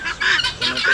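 A goose honks several times in quick succession, loud and close, each honk a nasal, reedy call following right after the last.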